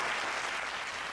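Sustained round of applause from a small group of people, hands clapping densely and steadily at close range for about a second, with no speech over it.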